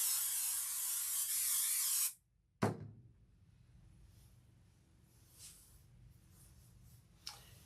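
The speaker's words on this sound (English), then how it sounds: "Let's just do a little spray here." A spray can of adhesive hisses onto an outdoor seat cushion in one close, loud burst of about two seconds, then cuts off. Quiet handling noises and a few faint rustles follow.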